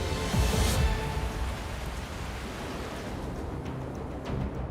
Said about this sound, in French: la pluie vient s'abattre sur la Terre pour venir abreuver les océans naissants